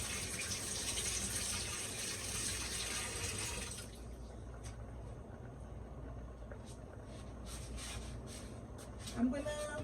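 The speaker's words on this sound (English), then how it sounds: "I'm gonna wash my hands." Running water from a kitchen tap while hands are washed during Haitian okra soup preparation, a steady rushing flow that later thins, then a few light clinks and a small knock near the end.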